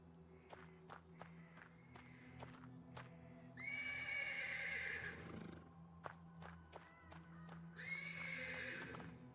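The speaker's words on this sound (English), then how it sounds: "The persistent neighing of a horse can be heard from the stables." In the video game Black Book, a horse neighs from the stables with two loud, drawn-out whinnies, set against steady hoof clops and a low ambient drone.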